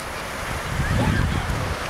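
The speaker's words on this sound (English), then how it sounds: "The waves are going to take it away any minute." Ocean waves wash up a beach at Santa Cruz, a steady broadband surf rush that swells slightly midway, with wind noise buffeting the microphone.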